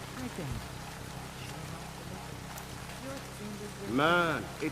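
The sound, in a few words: rain falling in the video game Splinter Cell: Chaos Theory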